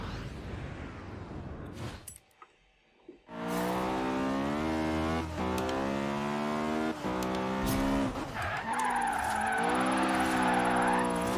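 Acura Integra Type R in Forza Horizon 3 sliding through a corner: a loud tyre squeal with a harmonic whine over a revving engine, starting abruptly after a short near-silent lull and lasting several seconds, with no speech.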